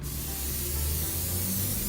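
A continuous pressurized spray from a cooking spray can hisses steadily and close up for a couple of seconds, with no talking, onto a phyllo dough pizza.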